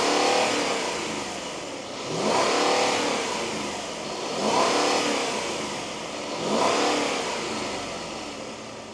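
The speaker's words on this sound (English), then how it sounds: "when you start this engine, you immediately hear that deep V8 that Mercedes is so well known for" A deep V8 engine in a 2016 Mercedes SL550 revs up and falls back several times in slow, regular surges, loud and close, with no talking.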